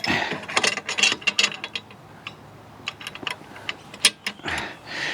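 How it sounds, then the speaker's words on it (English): A nut is tightened on a GripSport GS2+ e-bike rack with a ratchet. Quick bursts of close, crisp clicks come in short, uneven runs with small gaps between them, with no talking over them. "And then there's a nut here that we tighten up."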